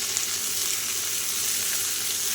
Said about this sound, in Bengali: একটু ভাজা হবে সবজিটা কিন্তু অনেকটাই ভাজা হয়ে গেছে